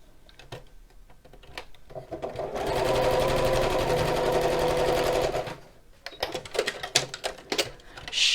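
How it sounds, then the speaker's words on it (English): Sewing machine stitching straight across two pieces of fabric, a steady, close, mechanical whir lasting about three seconds, framed by light handling clicks and taps before and after. "and we'll sew straight across."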